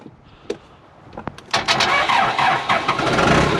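A vehicle that has sat for five days through snow is cranked and fires, with a few clicks and a brief crank followed by the engine catching into a loud, steady idle close by.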